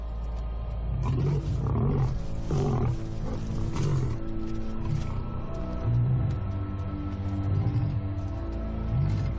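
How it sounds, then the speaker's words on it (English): A pride male lion in the wild in Botswana gives a warning roar: a series of deep, loud grunting roars, about six bursts in a rising and falling rhythm, close and alone with no talk. "The pride male roars his final warning."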